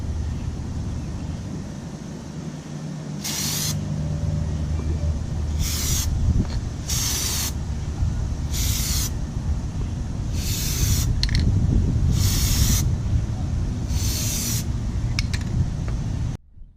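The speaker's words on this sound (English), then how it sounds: "now I'm gonna spray on the other side" Spray coating hisses onto a boat trailer bunk in about eight short bursts of a second or so each, close and loud over a steady background hum.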